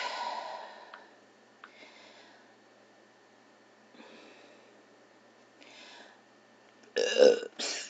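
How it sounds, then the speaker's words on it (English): A person lets out a series of burps while alone indoors, a long drawn-out belch at the start followed by several shorter ones, then a final loud, close burp near the end, with quiet breathing between. "Sorry for that burping."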